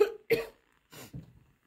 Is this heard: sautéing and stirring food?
no